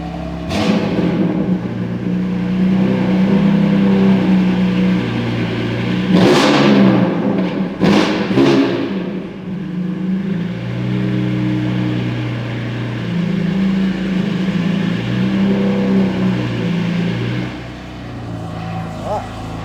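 A 1000HP BMW M3 street car fires up and idles with a loud, rumbling burble, then blips its throttle in a few sharp revs near the middle before settling back to idle, with people talking close by.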